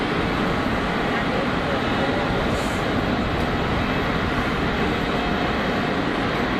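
Emirates Boeing 777-300 jet at Geneva Airport, a steady broad distant jet roar with no distinct peaks, voices talking over it.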